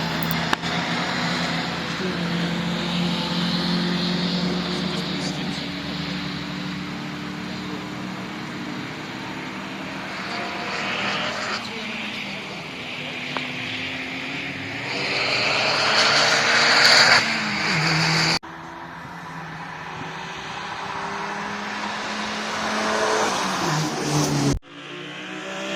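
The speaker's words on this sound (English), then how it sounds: "You can hear a few of the engines going about" Race car engines circulating at an Oulton Park trackday, a steady roar of several cars passing and revving at varying distances, rising louder near the end before cutting off abruptly.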